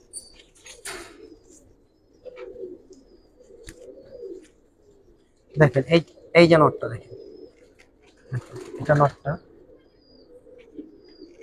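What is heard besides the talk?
pigeons cooing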